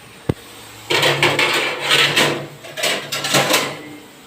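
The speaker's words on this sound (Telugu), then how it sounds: "ఇక మూత పెట్టుకుందాం" A metal lid set onto a cooking pot on the stove while a tomato and cauliflower curry cooks: a single sharp knock at the start, followed by a stretch of clattering, scraping rattles of lid and pot, close and moderately loud.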